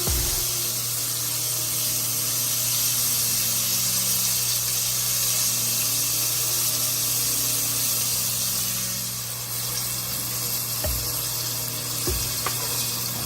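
Continuous sizzling and crackling of salmon frying in a pan, steady and close, with a couple of sharp clicks near the end.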